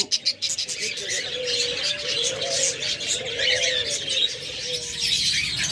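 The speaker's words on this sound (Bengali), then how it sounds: "আমাদের কাছে রয়েছে অসংখ্য পরিমাণ লাভ বার্ড" Lovebirds chirp and tweet continuously in a busy chorus, with soft cooing mixed in and a voice speaking briefly.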